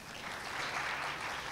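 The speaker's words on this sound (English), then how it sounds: "So you can clap for that." An audience at a Common Core education forum panel in Tulsa breaks into applause: a brief, faint, distant wash of clapping lasting under two seconds.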